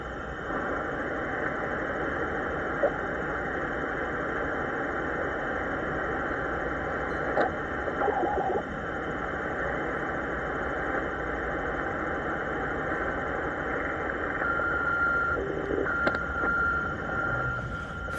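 Steady weather fax station transmission heard on a shortwave band scan between 4000 and 5000 kHz: a continuous droning tone with a constant hiss, monotonous and unbroken apart from a few faint blips.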